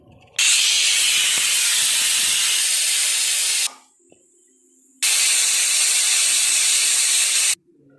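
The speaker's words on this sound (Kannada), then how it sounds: "ಈಗ 2 ವಿಜಿಲ್ ಬಂದಿದೆ" A pressure cooker of biryani lets out two long, loud hissing steam whistles, each lasting a few seconds, separated by a short near-silent pause.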